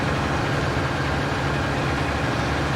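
A farm tractor engine idles in a farming game, a steady, dense low rumble that holds constant and fairly loud throughout with no voices over it.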